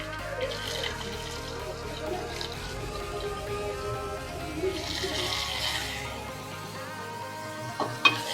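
Onion, curry leaves, coriander, mustard seeds and cumin sizzle steadily in a little hot oil for a tempering, with a constant close crackle, some stirring and a clack near the end.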